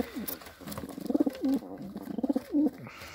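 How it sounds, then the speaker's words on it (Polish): Male racing pigeon cooing in short rolling phrases, a few repeated coos fairly close in a loft, with faint background noise. "Samczyk się odzywa."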